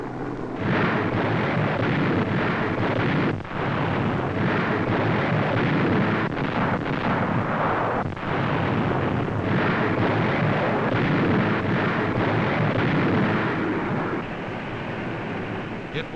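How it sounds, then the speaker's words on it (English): Aerial high explosives dropped by land-based bombers on enemy positions, heard as a continuous loud roar of blasts and rumbling detonations, dense and unbroken with brief dips, as in a wartime newsreel. "Land-based bombers dropped 70 tons of aerial high explosives on Japanese positions."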